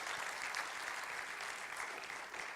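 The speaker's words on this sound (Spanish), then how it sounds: "Dele un aplauso a Dios" A church congregation claps together in sustained, dense applause, a steady wash of many hands heard at moderate distance throughout.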